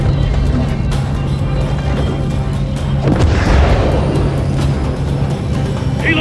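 Heavy B-52 bombing run in Call of Duty: Modern Warfare 3, a dense, loud, continuous rumble of low booms and blasts with a swelling roar midway, voices faintly mixed in.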